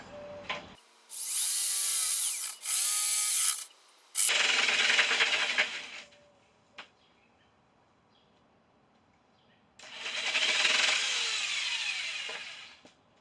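Power tool cutting RV carpet to a measured size, in several loud bursts of a few seconds each with short pauses between, and a single sharp tap partway through.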